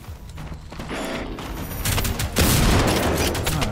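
Rapid gunfire and mechanical clatter from the video game Generation Zero, a dense burst of shots that builds louder toward the end, heard without talk.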